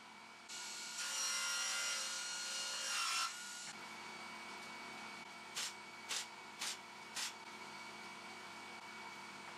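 A table saw cuts an MDF jig for mitre joints, giving a loud rasping cut of about three seconds, then four short quick bursts of cutting noise against a quiet shop hum.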